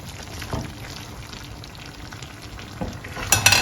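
Shredded onions, courgette and aubergine fry in a pan for a vegetable sauce, giving a steady close sizzle with a few scraping stirs and a sharper clatter near the end.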